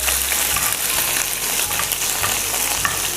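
Curry leaves crackle and sizzle steadily in hot oil for a Karaikudi-style Chettinad chicken, a close, continuous frying hiss with brief pops and no talking.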